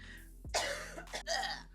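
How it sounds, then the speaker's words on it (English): A single sharp cough close by, followed by a couple of rougher throat-clearing bursts, with a low hum underneath. "I'm about to cough"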